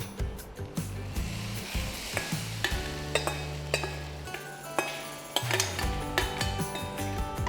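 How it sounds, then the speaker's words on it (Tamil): Fried nuts are stirred in a pan for sheer khurma, a spoon scraping and clinking against the metal in quick irregular strokes over a soft sizzle, close and fairly quiet with no talking. "இப்போ இது ஃப்ரை பண்ண நட்ஸ் வந்துட்டு இதில் நம்ம ஜாயின் பண்ணணும்"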